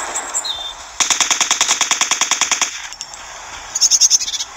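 Video game Trigger Fist team deathmatch: a loud, close burst of rapid automatic fire, about twenty evenly spaced shots over two seconds, then a pause and a shorter burst of five quick shots.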